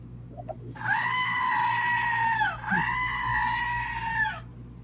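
A goat-bleating sound effect plays as two long, wavering bleats, one right after the other, loud and close over a low background hum.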